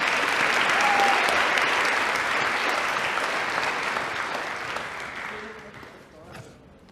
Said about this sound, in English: And can we give them a round of applause, please?